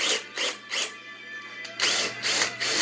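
Power drill pre-drilling holes during a survival bike build, several bursts of whirring, close and fairly loud, with brief pauses between them and no talking.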